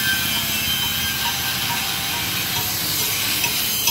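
Welding on a vehicle at a mobile tyre service gives a dense, steady crackling hiss, loud and close, running without a break.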